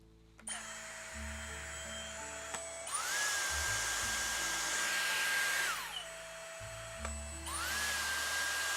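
A Dyson Airstrait hair styler blows loudly with a steady whine, switching between low and high settings twice, the pitch jumping up each time it speeds up.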